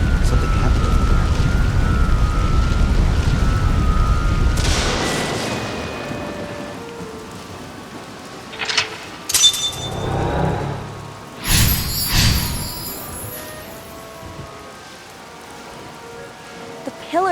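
Heavy rain pours in the video game AI: The Somnium Files, then fades as sharp lightning cracks and rolling thunder booms break out in several loud bursts.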